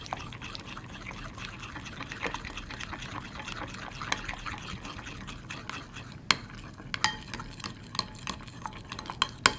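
Thick scented slime being stirred and mixed by hand, giving soft, wet squelching and sticky clicks with a few sharper pops later on, close and fairly quiet, with no talking.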